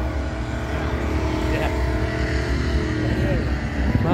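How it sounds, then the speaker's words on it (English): Engine noise from a tractor pulling event, a steady loud mechanical roar filling the background behind a classic car show, with a voice speaking over it. "The noise you can hear in the background is the tractor pulling."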